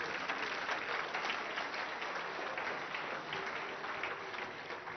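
Congregation applauding the Lord Jesus at a church service, dense sustained clapping from a crowd, steady and even throughout without pause.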